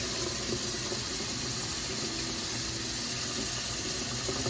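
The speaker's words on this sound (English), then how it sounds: "So I'm just draining the water" Water pouring and splashing steadily as it is drained off a pot of cooked shrimp, a continuous rushing flow at close range with no voices.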